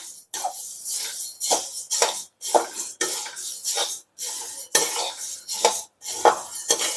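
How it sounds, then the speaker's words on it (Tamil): Coriander seeds dry roasting in a pan with no oil, tossed in quick rhythmic bursts of rattling, scraping clatter as a spoon stirs them, close by with short pauses between strokes. "இப்போ வரமல்லியை நம்ம வறுத்துக்கலாம்."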